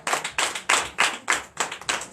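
A church congregation at a Sunday service in Comè, Benin, claps in acclamation in a steady, even rhythm of about seven loud, close claps.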